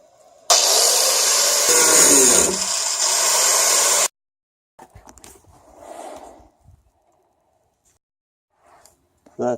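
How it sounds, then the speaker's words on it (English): A power grinder whines harshly on a boat tender under repair, loud and close for about three seconds, then stops, leaving quiet handling noises and scattered talk. "Let's go do some grinding."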